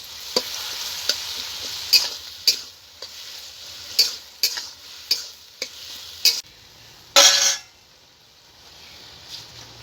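Ridge gourd and potato frying in a pan with green chilli paste, with repeated sharp scraping stirs of a spatula over a steady soft sizzle, close and alone, then a brief louder hiss before fading.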